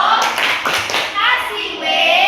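Elementary school pupils in a classroom perform a rhythmic clap chant, loud close hand claps in short bursts mixed with children's chanting voices.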